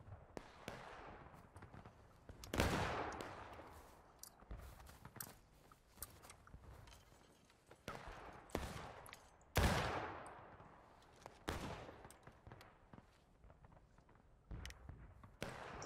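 Musket volleys ring out at a historical reenactment event: two big, sharp volleys that echo and decay, surrounded by scattered single shots and crackling reports at irregular intervals.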